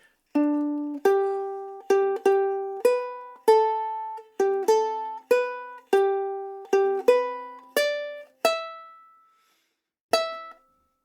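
A plucked ukulele plays a slow, simple melody note by note, each pluck ringing and fading, with a short pause before the final note.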